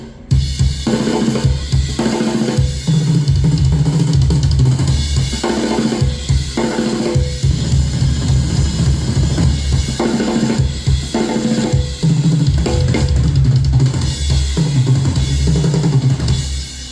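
A drum section from a track plays loud and dense. Kick and snare hits drive a fast, busy pattern, with no voices.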